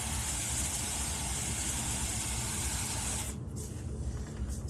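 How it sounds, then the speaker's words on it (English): Chain cleaner sprayed liberally onto a motorcycle chain, a loud close continuous hiss that stops abruptly near the end, followed by faint short bursts. "I'm gonna spray it again with the chain cleaner, just very liberally"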